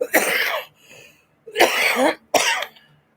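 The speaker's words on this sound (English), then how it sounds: "I'm coughing because I'm hot." Three harsh, raspy coughs, close and loud, separated by short pauses, with no talking.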